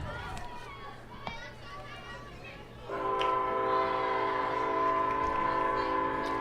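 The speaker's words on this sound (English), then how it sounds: "Train letting us know that it's going by." A passing train sounds a long, steady horn near a high school softball game, the blast starting midway and holding loudly while people talk over it.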